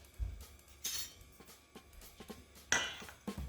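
Fork mixing a cheese filling of cream cheese and grated Parmesan Romano in a bowl, with soft scraping and several sharp clinks against the bowl at irregular intervals, close and fairly quiet.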